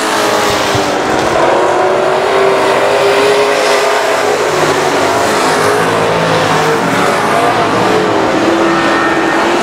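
Race cars roar at full throttle around I-37 Speedway on the final lap, a loud, continuous wall of engine noise with shifting pitch as cars pass close by.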